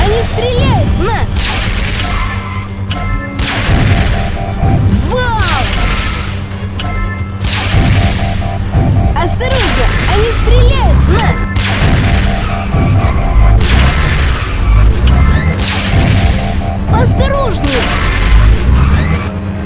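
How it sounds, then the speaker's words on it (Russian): Blasts, crashes and laser shooting in a Transformers Rescue Bots cartoon battle against the Morbots, loud repeated impacts and whooshes layered over dramatic music with no clear pauses. "Осторожно, они стреляют в нас!"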